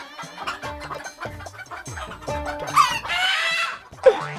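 A chicken clucks in a rapid, uneven run of short calls, close and fairly loud, with a couple of sharper squawks near the end and no talking.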